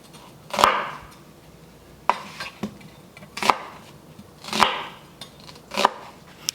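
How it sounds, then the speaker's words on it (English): A knife chops through an onion on a cutting board, cutting it into large chunky eighths for a beef stew, giving about five sharp, separate chops spaced roughly a second apart, close and fairly loud, with no one talking. "So I'm just gonna cut one onion into maybe eighths."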